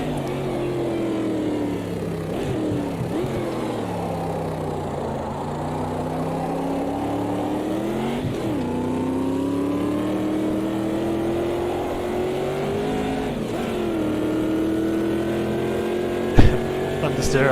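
A McLaren race car in Automobilista 2 drives at speed, its engine note sweeping up and down through the gears with a steady, continuous drone. Someone talks over it throughout.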